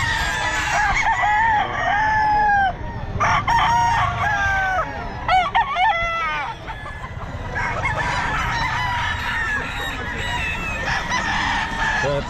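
Sweater gamefowl roosters at Bocaue pet market crowing loudly and close by, several overlapping cock-a-doodle-doo calls and clucks repeating throughout amid busy market background noise.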